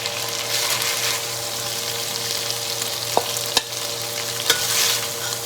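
Meat for a Cajun pastalaya is stirred in a hot pot, a loud continuous sizzle and frying hiss with a few sharp clacks of the utensil against the pot near the end.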